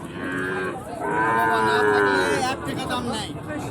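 Sahiwal cattle at a livestock market, one near, loud drawn-out moo rising and falling over about two seconds, followed by a weaker lowing tail amid market background noise.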